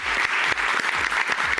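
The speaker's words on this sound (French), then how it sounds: "On applaudit très fort." Studio audience at a televised talent show applauding loudly for a contestant, a dense, sustained roar of clapping with a few sharper individual claps standing out near the microphone.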